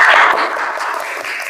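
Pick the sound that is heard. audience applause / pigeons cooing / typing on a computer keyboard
audience applause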